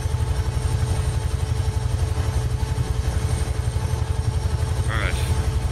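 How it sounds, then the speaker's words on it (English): A Huey helicopter in Microsoft Flight Simulator 2020 thunders steadily with fast, rhythmic rotor chop and engine drone, loud and close throughout, with a brief higher whine near the end. "Gotta love flying helicopters, right?"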